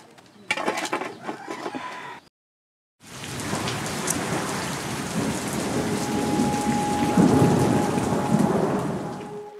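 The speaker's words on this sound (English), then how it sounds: "Rain came suddenly, making the roads a big mess with mud mixed together with animal waste." Heavy rain pours down suddenly on a rural road, a dense, loud hiss of drops with deep thunder rumbling underneath, steady and close after a brief pause and an earlier burst of clatter.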